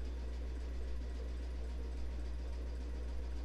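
A sewing machine zigzag-stitching across a quilt, running steadily with a fast, even mechanical chatter and a strong low hum throughout.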